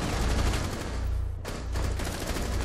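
Rapid automatic gunfire in Rainbow Six Siege rattles in sustained bursts with a brief pause partway, loud and continuous in close game audio.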